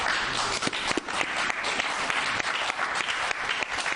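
Audience applause fills a hall after a debate on religion and the preacher W.M. Branham: dense, steady clapping from many hands, loud and close, holding evenly for about four seconds with no voices on top.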